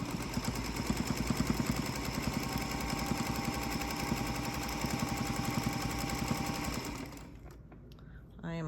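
A small green Singer Featherweight sewing machine stitching an eighth-inch quilting seam, a rapid, steady mechanical chatter close up that runs for several seconds before stopping abruptly.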